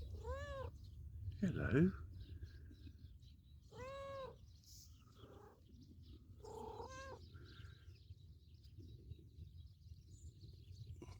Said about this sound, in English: Maybe if you haven't got an owner, you're going to be our farm cat.